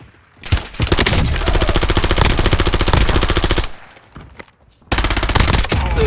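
Gunfire in Call of Duty: Warzone, a loud close burst of rapid automatic fire lasting about three seconds, a brief lull with a few scattered shots, then another burst, with no talking.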